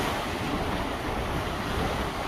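Strong ocean waves surging and crashing along the New Zealand shore, loud and churning for a couple of seconds, with wind buffeting the microphone.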